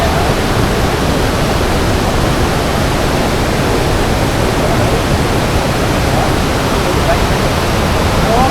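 Perennial waterfall beside a glass bridge in Vaibhavwadi taluka, Konkan, Maharashtra, heard as a steady, dense roar of falling water that stays loud and unbroken throughout, close by.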